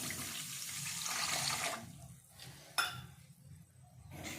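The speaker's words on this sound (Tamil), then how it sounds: "ஒரு கப்பு தண்ணி ஊற்றிக்கலாம்" Water from a cup pours into a pan while sugar syrup for a crisp maida sweet is prepared, a steady splashing trickle for the first couple of seconds, then softer intermittent drips and a small clink.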